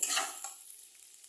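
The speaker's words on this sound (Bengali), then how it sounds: "নতুন আলুগুলো দিয়ে আমি এটা একটু ভালো করে নেড়ে নেব।" New potatoes being stirred as they fry in a pan for a potato curry: a brief, close sizzling hiss with scraping that quickly fades, without any speech.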